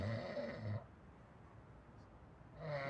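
A man snoring softly indoors, with a rough, breathy snore at the start, a quiet pause, and a second snore building at the end. The sound is fairly faint and there is no talking over it.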